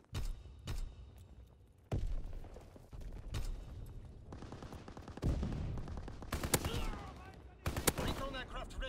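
Gunfire in Call of Duty: WWII, with separate sharp shots and short bursts over the first few seconds, then denser firing mixed with game sounds and faint radio-style voices.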